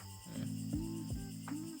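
Steady high insect chirping from crickets in the Philippines runs throughout with a nearby low buzzing tone and soft bumps underneath.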